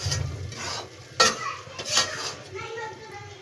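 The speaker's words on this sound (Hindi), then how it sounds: "और इसके अंदर हमने डाल देना आटा। इस आटे को भून लेना हमें अच्छी तरीके से।" Wheat flour being dry-roasted and stirred in a pan for coconut laddoos, close scraping of a spatula against metal with a couple of louder knocks and a faint sizzle, steady and near.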